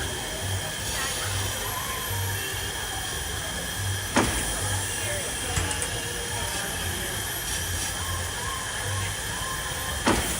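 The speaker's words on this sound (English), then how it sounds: "And this is a coal-powered steam engine train." The Dollywood Express, coal-fired steam engine number 192, gives off a continuous hiss of steam with a low rumble and occasional sharp knocks, heard at moderate distance under crowd noise.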